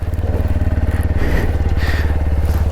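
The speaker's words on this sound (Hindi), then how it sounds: "नॉन स्टॉप भगानी है बाइक" A motorbike engine throbs steadily at close range with a rapid pulsing rhythm, like a rider on a long non-stop mountain ride through Spiti near Tabo, loud and continuous with no talking.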